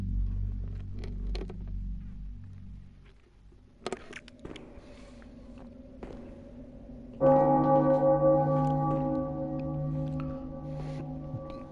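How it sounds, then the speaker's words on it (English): A church bell tolls in the Cathedral Ward of the video game Bloodborne, with a few deep, resonant strikes ringing out over a low ambient drone before a brighter sustained tone swells near the end. "the bell tolls"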